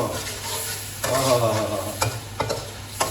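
Black pepper being stirred into salty chicken in a hot pan, with scraping stir strokes over a soft sizzle and a few sharp knocks of the spoon, close and fairly loud.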